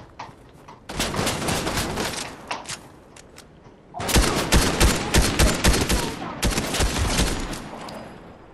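Rapid gunfire in the Fortnite video game rattles in two long, dense bursts of loud, close shots separated by a short lull.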